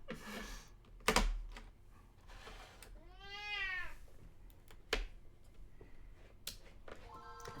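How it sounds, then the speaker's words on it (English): A cat meows loudly and at length, with a long rising-and-falling yowl in the middle, amid scattered keyboard clicks and taps in a quiet room. "the cat's loud right now."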